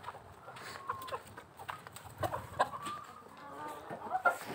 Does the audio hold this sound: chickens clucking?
yes